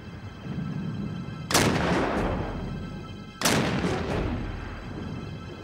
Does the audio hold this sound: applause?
no